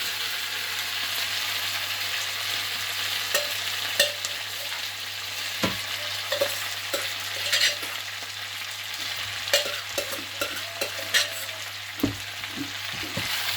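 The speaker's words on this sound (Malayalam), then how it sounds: "ഇനി നമുക്ക് നമ്മുടെ കായയും പോർക്ക് മറ്റും നമുക്ക് ഇതിലേക്ക് ആഡ് ചെയ്ത് കൊടുക്കാം" Pork and raw plantain sizzle steadily in a hot pan while a utensil scrapes and knocks against it in irregular strokes, close up with no talking.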